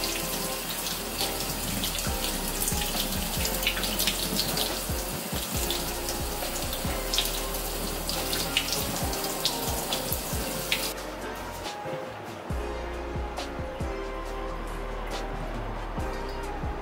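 Water runs steadily from a kitchen sink faucet, a continuous broadband splashing rush that holds fairly loud throughout, with a brief dip near the end as the flow is disturbed.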